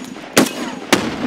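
Two sharp blasts about half a second apart in the Escape from Tarkov video game, loud and close with short rumbling tails, likely from a grenade, with no talking.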